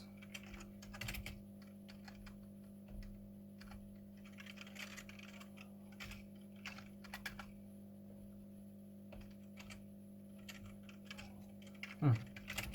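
Keystrokes on a computer keyboard as text is typed, a quiet run of light, irregular clicks close by over a steady low electrical hum.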